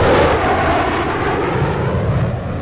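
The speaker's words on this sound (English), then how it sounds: "It's a jet." Jet aircraft in the video game Battlefield 4 roars past loudly, a dense engine rush that stays strong and slowly fades as it moves away.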